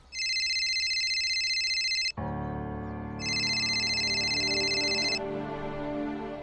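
A phone ringtone trills in two loud electronic bursts with a pause between, played over background music in a Hindi TV drama scene.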